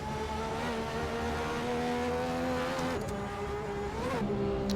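A race car in Assetto Corsa roars through a tunnel, its engine tone reverberating in a steady buzzing drone. The pitch dips and climbs as the driver shifts and revs.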